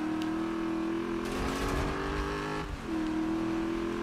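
Steady engine drone from a Dodge in Need for Speed, a constant hum that briefly surges with a revving swell in the middle before settling back to an even tone.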